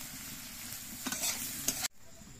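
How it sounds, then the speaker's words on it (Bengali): Potatoes frying and being stirred in a pan, a steady close sizzle with two sharper scraping stirs before the sound cuts off abruptly near the end. "এখন আমি আলুগুলো ভাজবো, একসাথে ভেজে নেব"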